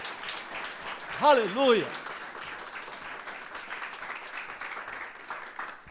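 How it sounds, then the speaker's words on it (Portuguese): Congregation applause in a Portuguese-language church service, steady moderate clapping throughout, with a voice briefly calling out over it near the start. "Dê um aplauso a Jesus, por favor."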